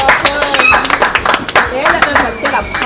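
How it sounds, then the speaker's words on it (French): An audience claps at a film's making-of event, a brisk patter of applause under someone speaking French. "Est-ce que vous pouvez applaudir pour elle là-bas, s'il vous plaît?"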